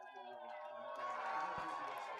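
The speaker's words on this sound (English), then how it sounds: "Crowd getting loud." Baseball crowd at a Thursday night Ogden Raptors game swelling in noise, a distant roar of cheering rising under a nearby commentator's voice.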